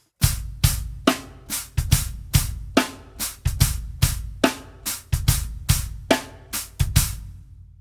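A triplet ostinato drum groove with punchy kicks and bright hits in a loping, swung shuffle rhythm, steady and close, played alone.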